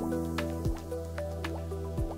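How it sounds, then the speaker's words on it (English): Ordinary cement immersed in water, giving a close, quiet series of wet squishy drips and small bubbling pops over a steady low hum, irregularly spaced, with no talk. "Let's start by immersing the ordinary cement completely in water."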